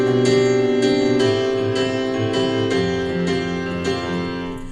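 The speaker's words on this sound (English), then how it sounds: "here's what the 4-chord progression is going to sound like." Piano playing a four-chord progression with a steady repeating rhythmic pattern, sustained chords and regular attacks, loud and close with no talking.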